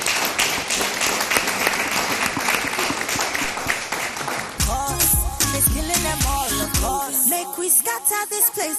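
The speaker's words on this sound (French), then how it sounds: "Madame Brunette, sous vos applaudissements, s'il vous plaît." A TV talk-show studio audience applauds a guest's arrival with steady, close, energetic clapping for about four seconds before loud music with a thumping beat takes over.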